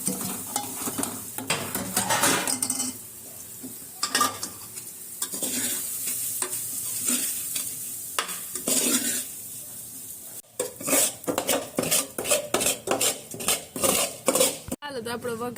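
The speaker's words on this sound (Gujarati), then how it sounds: "મમ્મી વઘારે હે અહીંયા વઘારેલો રોટલો" Leftover flatbread being tempered in a pan sizzles while a metal utensil scrapes and clanks against it repeatedly, the stirring growing brisker and more rapid toward the end.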